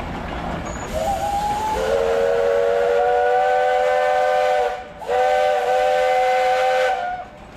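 A steam engine whistle blows at an antique power parade in Sycamore, Illinois, a loud sustained chord lasting several seconds, briefly breaking off and then sounding again, close and clear over the outdoor background.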